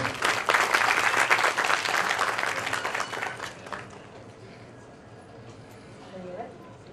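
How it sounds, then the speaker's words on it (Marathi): An audience at a retirement felicitation ceremony claps loudly for several seconds, then the applause fades to scattered claps and quiet room noise. "सर्वांनी टाळ्या वाजवायच्या."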